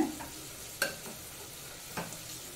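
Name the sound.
sautéing broad beans and field beans in masala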